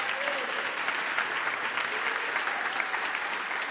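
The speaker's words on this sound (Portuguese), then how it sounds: "Bate palmas para Jesus." Church congregation clapping during a sermon, a dense, steady wash of many hands filling the whole stretch at moderate loudness with no voices standing out.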